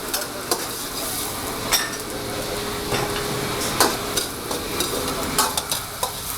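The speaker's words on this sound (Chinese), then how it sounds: "再来就是爆香，洋葱。" Onion and celery stir-frying in a hot wok at a restaurant kitchen, a steady sizzle broken by repeated scraping and clanking strokes of the spatula against the pan, close and fairly loud with no talking.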